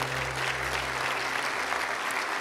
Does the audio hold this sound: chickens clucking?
no